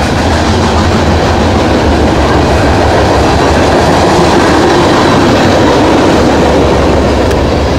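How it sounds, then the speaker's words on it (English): A freight train with a DPU locomotive rolls past at Bonner Springs, Kansas, loud and close, a continuous roar of wheels and rail clatter with a steady clickety-clack throughout. "Got a DPU coming up."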